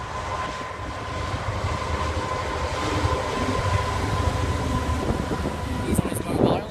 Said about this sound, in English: Here's the coal train from Humber to Ratcliffe.